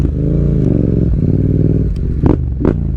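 A Yamaha MT-07 motorcycle rides through a back alley, its engine droning steady and close with small pitch shifts, then two short bursts of clatter or scrape near the end.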